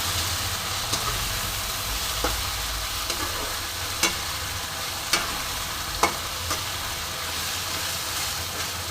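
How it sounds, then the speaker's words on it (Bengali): Spice paste with onion and turmeric fries in a pan for a thin goat meat curry, giving an even sizzle. A spatula scrapes and taps the pan every second or so. "সুন্দর করে কষবো এবার মশলাটা"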